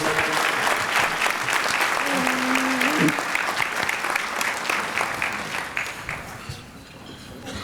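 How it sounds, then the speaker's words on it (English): Audience applause at a scholarship jazz brunch, sustained clapping from a large room that fades slightly toward the end, with voices faintly underneath. "So give a great hand of applause for Norris Henderson, the Executive Director of VOTE"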